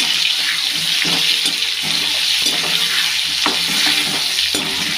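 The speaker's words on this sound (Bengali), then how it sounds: "হলুদ নুন দিয়ে দিলাম। একটু ভেজে নেব আলুটাকে।" Potato pieces frying in a pan with turmeric and salt, a loud, constant sizzle with stirring clatter throughout, no voices.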